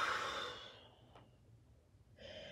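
A single person breathing out steadily during a yoga flow, a soft breathy exhale fading over about a second, followed by quiet and then a fresh breath sound near the end.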